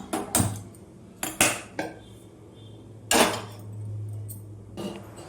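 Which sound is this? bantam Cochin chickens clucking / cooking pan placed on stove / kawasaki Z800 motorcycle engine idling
cooking pan placed on stove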